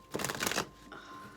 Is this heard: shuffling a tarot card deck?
yes